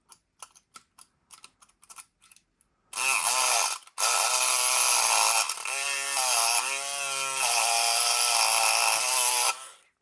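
A Multipick Kronos electric lock pick gun: a few sharp, sparse clicks, then a loud, close buzzing whir that runs for several seconds, breaks off briefly and starts again before stopping.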